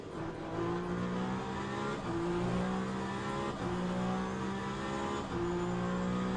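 A race car engine in the Le Mans Ultimate sim racing game at Imola drones steadily at moderate volume, its pitch sliding through repeated rises and drops as gears change, with no talking.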